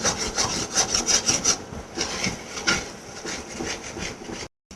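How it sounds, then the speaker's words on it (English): A spoon scrapes fried masala off the bottom of a kadai during a chicken fry, loud rhythmic rasping strokes close up, repeated quickly then slowing, with no talk. "You have to constantly keep scraping the bottom of the bowl."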